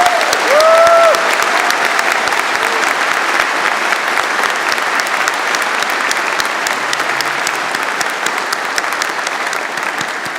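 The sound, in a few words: audience applause at university convocation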